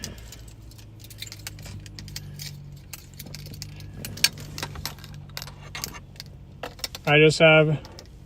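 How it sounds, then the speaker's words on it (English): Keys jangle briefly in a pocket, a short metallic rattle near the end that follows quiet, scattered clicks and handling noises inside a car. "I have two keys in my pocket, and I was using the wrong key."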